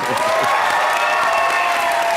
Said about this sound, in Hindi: शाहरुख सर के लिए जोरदार ताली।